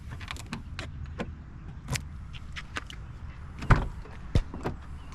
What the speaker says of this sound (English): You can hear the actuator in the trunk also locking too.